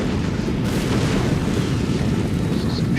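Rifle infantry fire volleys in a Napoleon Total War battle between France and Britain, heard as a dense, rumbling barrage of overlapping musket shots and booms that continues loudly throughout.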